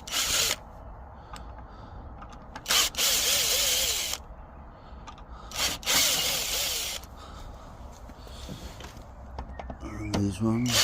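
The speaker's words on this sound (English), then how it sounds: "So we've just got to take these screws out now." Screws being driven out of an old wooden bench during a restoration, with a power driver whirring in several short bursts between quieter handling noises and faint rubbing, close and fairly loud.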